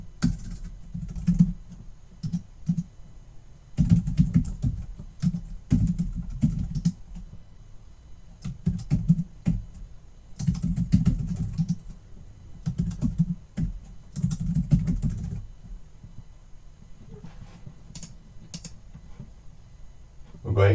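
Keys clack in bursts on a computer keyboard as sign-up information is entered into a web portal, clear and nearby, with short pauses between runs of typing.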